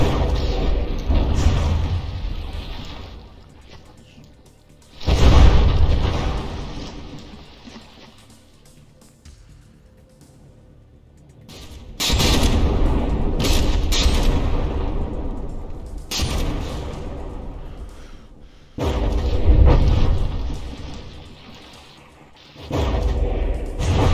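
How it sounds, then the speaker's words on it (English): Shells from battleships in the naval combat game From the Depths strike and explode against a hull in loud, booming bursts. The heavy crashes come in clusters separated by quieter stretches of rumbling. "every hit that lands detonates very close to the surface"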